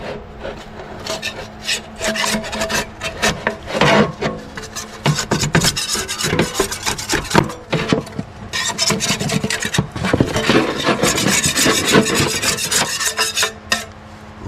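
Old gasket material being scraped off the oil pan of a Plymouth Fury, heard as close, rough, uneven scraping and rubbing strokes in irregular bursts, loud and continuous with no talking.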